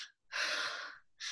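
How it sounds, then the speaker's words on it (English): A sharp, quick gasp of air drawn into the lungs as part of a breathing exercise, loud and close, followed after a brief pause by a shorter second intake. "Quick gasp of air into the lungs."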